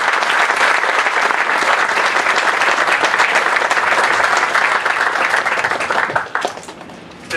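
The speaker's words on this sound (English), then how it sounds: "Let's give our elected officials a huge round of applause." Sustained, dense applause from an audience at a ribbon-cutting ceremony honoring elected officials, loud and steady for about six seconds before quickly tapering off.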